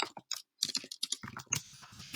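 Computer keyboard typing in quick irregular bursts of clicks with short gaps, close and clear, no voice over it.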